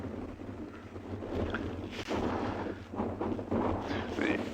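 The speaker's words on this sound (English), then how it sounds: "it is really breezy and really cold today." Breezy wind blows steadily across the microphone on a cold morning on a safari, a continuous rushing roar with stronger gusts swelling midway and near the end, no voices.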